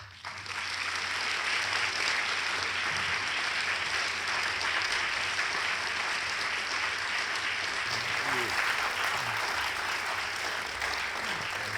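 An audience at a live conversation event applauds warmly, a dense, sustained clapping that rises quickly and holds steady for several seconds, close and loud.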